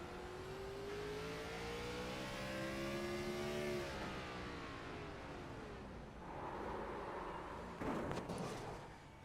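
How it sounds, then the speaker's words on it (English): A race car engine at Martinsville in a sim racing game whines and climbs in pitch as it over-revs from a bad downshift, then drops away, followed by a rougher rumble and a burst of sharp crackles, steady and close. "Maybe a bad downshift for the driver of that number 9 machine"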